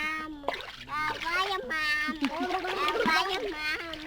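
A small child splashes in a pool, the water sloshing under constant chatter and high, excited voices of a child and adults close by.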